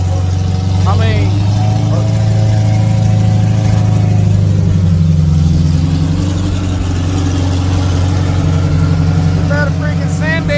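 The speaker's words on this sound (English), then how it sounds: "Sound like it's idled up too high." A car engine idles high with a loud, steady low drone and sustained harmonic hum, recorded close at a drag race event with a turbocharged car nearby, with people talking over it.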